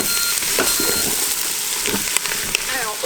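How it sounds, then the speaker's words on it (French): Lamb cubes from a leg of lamb browning in a hot pan give a steady, loud sizzle and crackle throughout, with a few sharper pops. "on va venir faire revenir le tout pendant un petit 5 minutes pour commencer à bien faire dorer la viande"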